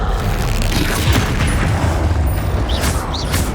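Spell explosion from the Confringo fire spell in the video game Hogwarts Legacy, a loud rumbling boom sustained through the moment with crackling bursts, over dense game background noise.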